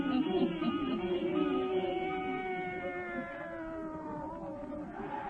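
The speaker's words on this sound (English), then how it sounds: "old Nancy, witch of Salem, and Satan, her wise black cat" A black cat in an old witch radio drama lets out a long, drawn-out wailing meow, a sustained caterwaul that holds steady and then tapers over several seconds.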